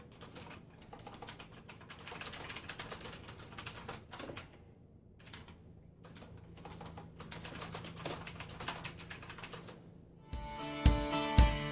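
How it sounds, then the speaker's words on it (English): Rapid, uneven clatter of fingers typing on a mechanical keyboard, close and crisp, with short pauses between bursts, before a louder patch of music takes over at the end. "I love using my mechanical keyboard because it makes me feel like I'm using a typewriter"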